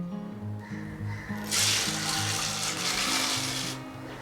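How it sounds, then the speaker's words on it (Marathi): Split chickpeas fry in oil on a low flame for crispy chivda: a loud bubbling sizzle swells in partway through and runs steadily over soft background music before easing off. "आता आपण डाळे तळूया"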